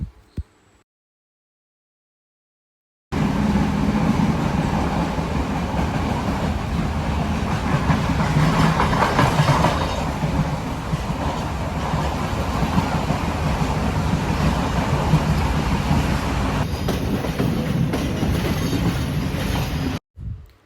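A passenger train running between Hikkaduwa and Galle in Sri Lanka rumbles steadily from inside the carriage, a loud continuous roll with faint wheel clatter, starting after a short silence and cutting off near the end.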